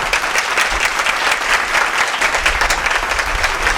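Steady applause from a church audience welcoming visiting guests, dense continuous clapping, fairly loud and close, with no talk over it for the whole span.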